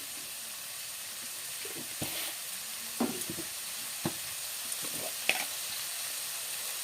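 Shrimp fry in hot oil in a wok seasoned with salt and turmeric, giving a faint, steady sizzle broken by a few sharp clicks and taps from the pan.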